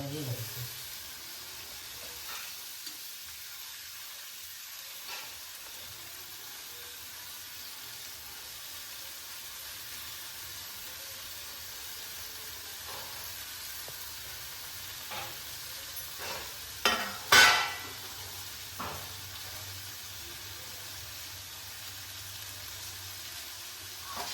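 Chopped vegetables with onion and chili fry in a pan, giving a faint, steady sizzle with a few sharper clinks and stirring scrapes near the end.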